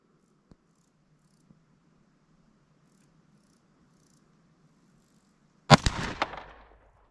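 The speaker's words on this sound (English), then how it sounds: "Try to take some steady shots here." A pistol fired at a shooting range: two faint distant pops early on, then one loud, close shot with a ringing tail, over a quiet background of buzzing insects.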